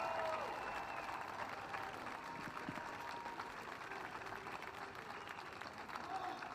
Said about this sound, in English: So give yourself a round of applause because we got that.